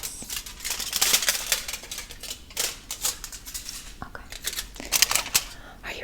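Hair colouring foils are handled at a salon in a close, quiet ASMR setting, giving bursts of crisp crinkling and rustling in irregular clusters.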